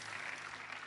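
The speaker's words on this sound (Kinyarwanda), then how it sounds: "mureke nabo tubakomera amashyi" Audience applause at a church gathering with pastors and a bishop: dense, steady clapping from a crowd, fairly faint and brief, with no voices over it.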